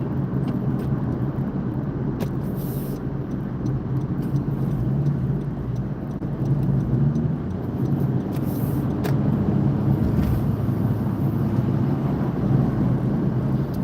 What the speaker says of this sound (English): Oh, here's the traffic.